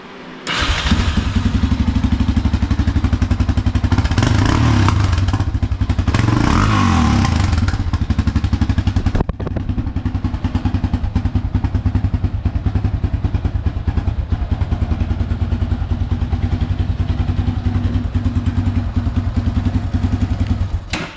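Loud, raspy Yamaha Raptor 660R ATV engine revving with a throaty, unmuffled exhaust, its baffle removed, then settling into a steady rumbling idle with clattering, close up throughout.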